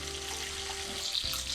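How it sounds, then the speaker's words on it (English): Bacon strips frying in leftover grease from an earlier batch in a pan, a steady soft sizzle and crackle with faint spatter, quiet and continuous with no talking. "Because this bacon is cooking in grease from the previous bacon"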